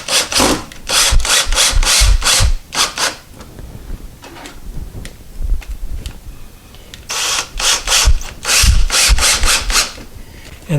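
Screwdriver snugging the screws of an exterior door knob by hand, a series of close, rhythmic rasping bursts in two runs with a quieter pause between them.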